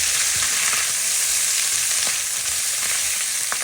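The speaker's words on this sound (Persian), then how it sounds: "داخل روغن را سرخ میکنیم" Beef tripe frying in hot oil gives a loud, steady, dense sizzle throughout, with a few faint clicks of stirring and no voices.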